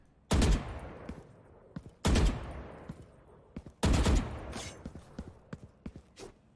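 Three loud, sharp bursts of rapid gunfire from Valorant, about two seconds apart, each cutting off with a decaying tail, then faint clicks and footsteps.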